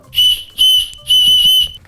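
Three loud, shrill whistle blasts come from a whistle-shaped candy blown close up, the last one longest, with short pauses between them.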